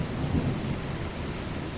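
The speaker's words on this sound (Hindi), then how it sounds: "धनराज, गोविंद, तुम इस बारिश में यहाँ क्या कर रहे हो?" Steady hiss of heavy rain with a low rumble of thunder in a Hindi horror cartoon, loud and continuous throughout with no voices.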